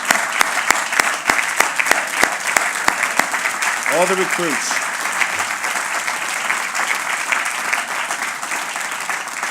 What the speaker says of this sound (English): Join so that we can give you the applause that you deserve.